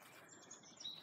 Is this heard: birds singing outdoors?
yes